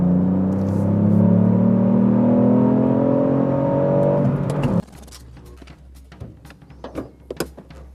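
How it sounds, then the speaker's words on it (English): Ford Fiesta ST with a 200-horsepower three-cylinder engine revs hard, its climbing whine holding loud and close for several seconds before cutting off abruptly, leaving quiet clicks and light mechanical sounds. "This magnificent 3-cylinder is putting out these 200 brake horsepower."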